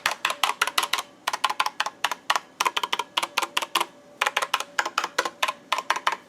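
Quick, clicky typing on a Corsair K70 RGB TKL mechanical gaming keyboard, close and clear, in short rhythmic bursts separated by tiny gaps, with no voices.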